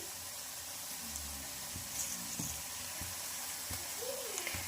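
Garlic cloves and a spoonful of cumin seeds frying in a pan, a soft, steady sizzle with occasional light clicks and taps of utensils, fairly quiet and without speech.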